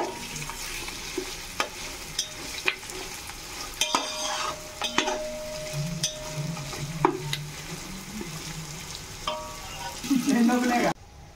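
Vegetables for veg biryani stirred and fried in a pan, an ongoing sizzle with repeated sharp utensil scrapes and knocks, and a louder burst of frying just before it cuts off.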